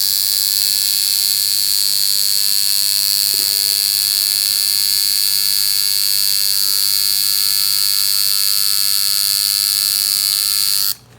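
A tattoo machine buzzes steadily while shading with the same needle, a close, constant electric whine with a strong hum that runs unbroken until it cuts off at the end.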